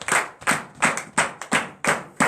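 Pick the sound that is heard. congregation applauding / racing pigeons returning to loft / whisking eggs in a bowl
congregation applauding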